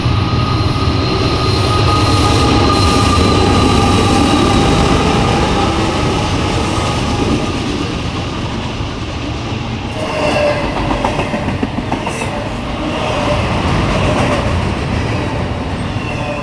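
A train rolls past on rails for the whole stretch, with steady loud rumble, clattering wheels and some squealing. There is no talk.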